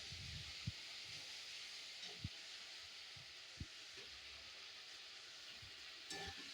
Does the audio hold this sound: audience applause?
no